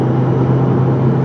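An Opel Insignia 1.6 Turbo 180 HP Cosmo accelerating in fourth gear on a highway, a loud, steady engine drone with road and wind rumble heard from inside the cabin, unbroken throughout.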